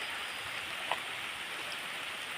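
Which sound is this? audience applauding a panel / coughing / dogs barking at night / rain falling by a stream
rain falling by a stream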